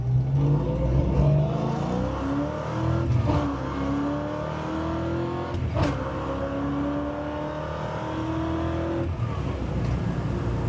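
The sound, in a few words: classic car engine accelerating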